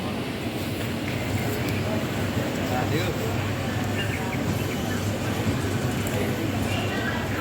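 A passenger train with many coaches rolls steadily through a small railway station, a continuous close rumble and clatter of wheels on track lasting throughout, with faint birds in the background.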